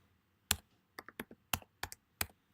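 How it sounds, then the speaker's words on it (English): Keys on a computer keyboard clack in an uneven burst of taps, with a pause and then several quick presses including a firmer enter stroke, close and fairly quiet. "I keep on typing that in and pressing enter."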